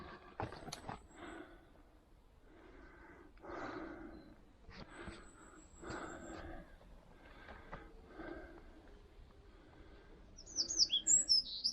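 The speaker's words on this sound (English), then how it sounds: "Can you hear the birds tweeting?" Birds chirp and tweet at a moderate distance outside a derelict gamekeeper's house, the calls scattered across the clip, with occasional breathing and movement close by and a sharper burst of high calls near the end.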